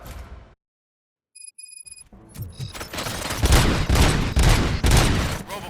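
Silence broken by faint electronic beeps, then a sustained barrage of loud, rapid gunfire with booming impacts, continuous and dense, in the video game Robocop: Rogue City.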